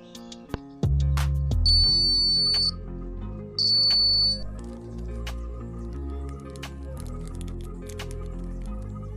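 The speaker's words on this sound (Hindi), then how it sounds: "ये बजर है" A small 5-volt-class electronic buzzer component, bought cheaply as a hobby part, sounds two loud, steady high-pitched beeps about a second long each, separated by a short gap, amid faint clicks and handling noise.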